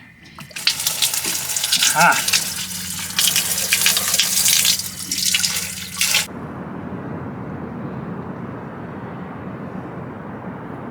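Water pumped from one tank to another aboard a boat, a loud rushing, splashing flow for about six seconds before it cuts off to a low steady hum, with a brief voice near the start.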